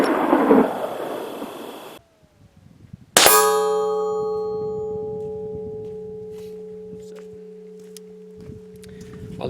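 An FN PS90 5.7x28mm rifle fires a single sharp shot that rings out with a long, slowly fading metallic tail after a short quiet gap, with no one talking.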